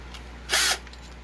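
An electric drill bores a hole in one short burst, about a quarter second of whirring, over a faint steady background hum.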